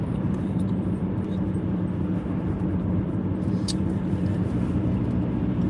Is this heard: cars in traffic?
yes